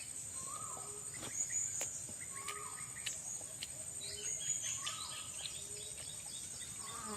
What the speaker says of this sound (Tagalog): may ibon na naman ni Bayawak tol.